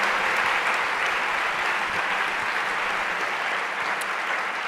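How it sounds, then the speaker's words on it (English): An audience at a school veterans ceremony claps steadily, a dense, even wash of applause filling the room without pause. "Could you please give them a big round of applause for their service?"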